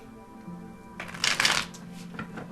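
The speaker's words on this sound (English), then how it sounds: "So, all right, so I'm going to shuffle." Tarot cards are shuffled by hand in a quiet room, a soft riffling burst that swells and fades over about a second, with faint handling noise before and after.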